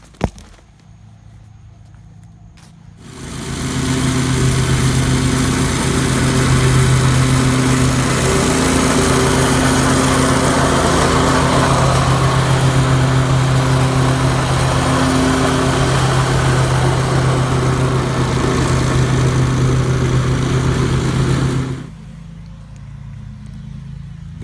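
A lawn mower starts up nearby and runs at a loud, steady drone for about twenty seconds, then cuts back to a quieter idle. No one talks over it.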